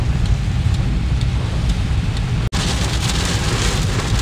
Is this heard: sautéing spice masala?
no